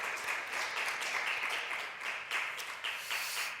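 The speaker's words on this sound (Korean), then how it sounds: "축복하고 격려하는 박수 한번 더 하도록 하겠습니다" A church congregation applauds at a Wednesday worship service, with dense, steady clapping from many people that continues throughout, moderately loud and slightly distant.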